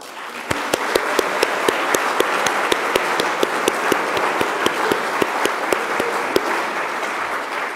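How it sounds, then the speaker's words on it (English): An audience gives sustained applause for the finalists of the 2018 Clinton Bedogni Prize for Open Systems, a full, even wash of many hands with a few sharp, close claps standing out at a steady rhythm, no voices over it. "So would you please all join me in a big round of applause for our finalists and their"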